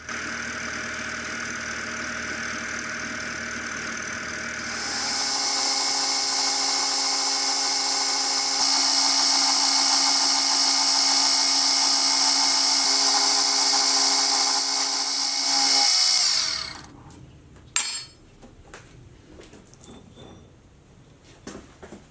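A milling machine cuts a recess beside the slot of a tool holder, a steady high whining cut that swells louder mid-clip, then stops abruptly, leaving quiet workshop clatter and a sharp tap.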